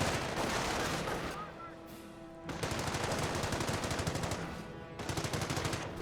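Sturmgewehr assault rifles and other weapons fire in sustained, rapid bursts during a Company of Heroes 1 battle, with dense overlapping gunfire that pauses briefly and then resumes, loud throughout, while a voice talks over it.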